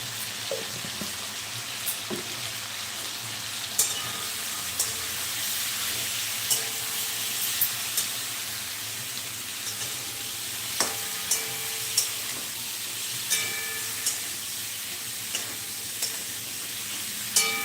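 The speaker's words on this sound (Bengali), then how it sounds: "দেখি ভালো করে ভেজে নেব তাহলে" Rui fish frying in hot oil with turmeric gives a steady, dense sizzle with scattered sharp crackles and pops over about eighteen seconds, with no talking.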